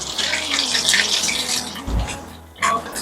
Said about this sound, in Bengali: তারপরে দেব একটু গোটা জিরে, এবারে ফোড়নটা